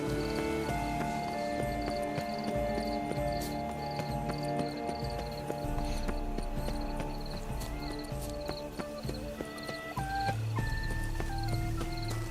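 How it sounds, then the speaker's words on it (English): Horse hooves clip-clop in The Witcher 3, a steady rhythm of close hoofbeats under layered game music and ambient noise, with a brief neigh near the end. "Just a horse"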